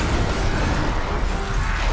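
A dense, low rumbling blast from the shooter game Crysis, a sustained roar of explosion and gunfire filling the whole stretch with heavy bass and no clear gaps.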